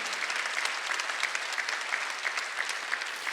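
A church congregation at a Sunday worship service claps steadily, a dense, continuous applause that stays even and fairly loud throughout, with no speech over it.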